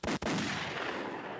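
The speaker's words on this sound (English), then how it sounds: "Let the gunshots roll." Gunshot sound effect: two sharp, loud blasts in quick succession with a booming tail that fades over about a second.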